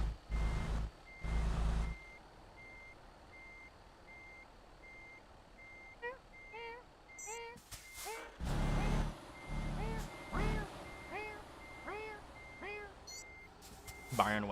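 In Euro Truck Simulator 2, a truck backs up while pulling a trailer, steady reversing beeps repeating over a low engine rumble, with a person talking in short bursts over the sound.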